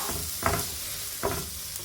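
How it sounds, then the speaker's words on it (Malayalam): Chopped onions sauté in a pan with a soft, continuous sizzle and two brief louder stirring scrapes, close up and fairly quiet, with no talk. "ഇത് നന്നായി സോഫ്റ്റ് ആവുന്നത് വരെ വഴറ്റി കൊടുക്കുക."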